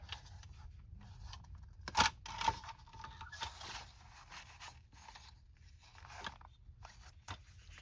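Scissors cut paper to shape a dust jacket flap for a handmade journal, a few crisp close snips standing out briefly over a quiet room.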